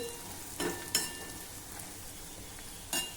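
Grated dry coconut and coarsely crushed raw peanuts sauté in a hot tempering, giving a soft steady sizzle broken by a few brief spoon-stirring scrapes, with no talk.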